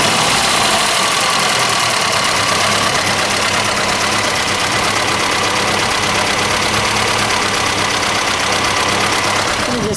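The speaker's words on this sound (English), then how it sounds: "Just listen to it idle for a second." Engine of a 1973 Chevrolet Vega notchback idling steadily, loud and close, a continuous even rumble with slight knocking texture and no speech over it.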